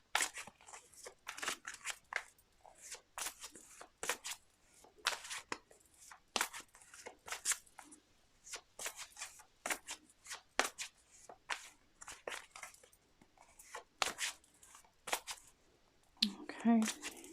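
Tarot cards are shuffled by hand in a quiet room, a string of short crisp riffling bursts that come in irregular clusters, fairly close, with soft pauses between them and a brief rustle near the end.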